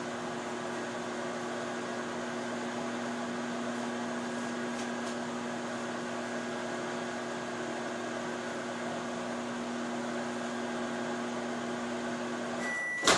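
A microwave oven hums steadily while melting butter in a mug, a constant drone with a faint tonal whine that runs unbroken and ends in a sharp click.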